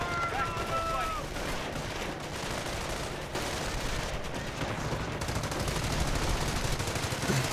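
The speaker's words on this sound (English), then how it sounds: "and we're going to fire it at this half-track." Armor-piercing burst fired at a half-track in the World War II strategy game Company of Heroes, heard as a dense, continuous rattle of gunfire and explosive noise that stays loud for the whole stretch, with speech faintly mixed in.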